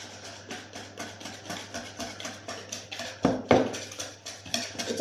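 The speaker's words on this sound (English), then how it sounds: "I put milk, and then mix." A utensil stirs milk into a mixture in a bowl, making rhythmic, close scraping and clinking strokes about twice a second, with a couple of louder knocks partway through and a low steady hum underneath.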